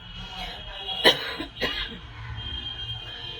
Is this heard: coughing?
yes